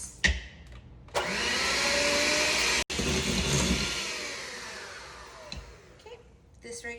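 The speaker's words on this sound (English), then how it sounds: "I like a hand mixer because it's fast and efficient" A hand mixer whips heavy cream with a loud, steady motorized whir that starts abruptly, cuts out for an instant, then resumes and slowly eases off before stopping, with a few knocks around it.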